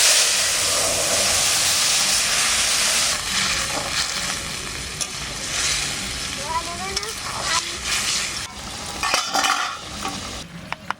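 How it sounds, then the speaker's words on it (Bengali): Cumin seeds fry in a little oil with a loud hissing sizzle at first that gradually settles, broken by stirring scrapes and clinks, while a voice talks nearby. "সামান্য তেল দিয়ে আমি জিরেটা একটু ভেজে রাখি।"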